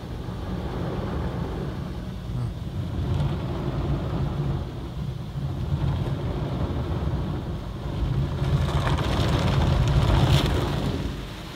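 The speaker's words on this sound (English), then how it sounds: "We're doing the tyre scrubbers down there." A Ryko Excel automatic car wash at a Mobil station in Braddon, ACT, running its tyre scrubbers: a continuous loud low rumbling wash of spinning brushes and spraying water, swelling louder toward the end.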